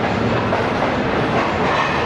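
Tezgam express on Pakistan Railways running at speed, heard from inside an old AC sleeper coach as a loud, steady rumble and clatter of wheels on track with no pauses.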